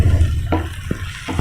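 Tomato masala frying in a pan, a soft steady sizzle broken by a few quick scraping stirs of a spoon, close and brief with no talking.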